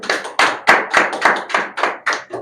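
A few people at a repair training centre's batch closing day clap in a steady rhythm of about nine sharp, close claps, with no talking.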